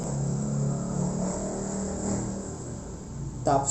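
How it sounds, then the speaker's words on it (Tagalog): Motorized tricycles race with their engines revving in a continuous rumbling drone, and a sharper burst comes near the end. "nagkakarera na tricycle"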